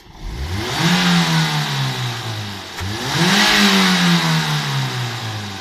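A Ford Focus II with a 1.8 QQDB petrol engine revs twice, each time rising from idle to a loud, smooth high-rpm roar and settling back, close by with no talking.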